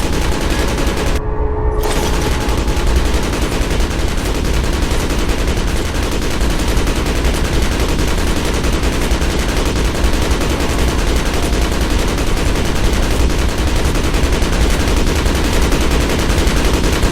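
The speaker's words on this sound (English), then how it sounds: "That gunfire is a little bit overkill, don't you think?" Heavy, sustained gunfire in the modded game Fallout: Tale of Two Wastelands, with a loud continuous barrage of rapid shots that drops out for a split second and then resumes nonstop.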